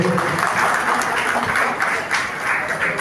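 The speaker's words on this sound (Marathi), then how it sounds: "जरा टाळ्यांचा आवाज होऊन जाऊ दे." Audience applause at a Maharashtra women's award ceremony, dense continuous clapping from a crowd filling the whole stretch at steady volume.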